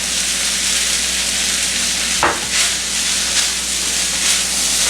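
Fried rice sizzling in a pan as green onions go in, a loud steady hiss close up with one sharp burst of crackle and a few soft stirring surges; no voices.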